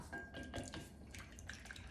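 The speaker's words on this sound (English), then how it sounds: "Whisk this up." Egg yolks are whisked in a small dish with quick, rhythmic clinking and sloshing taps, close and continuous.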